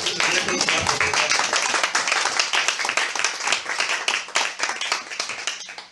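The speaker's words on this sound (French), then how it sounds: "Applaudissons pour le Seigneur." A church congregation claps and applauds steadily for several seconds, dense and loud, with voices mixed in before it tapers slightly at the end.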